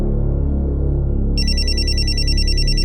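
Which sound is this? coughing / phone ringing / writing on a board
phone ringing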